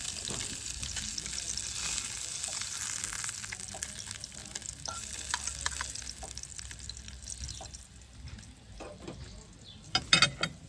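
Fish with onions sizzles and fries steadily in a pan, a continuous close crackle with scattered pops and a few sharper clatters near the end.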